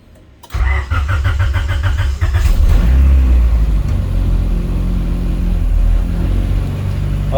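A Honda Integra being readied for a race, just after a fuel injector service, cranks briefly, fires up loudly at close range and settles into a steady, slightly uneven idle.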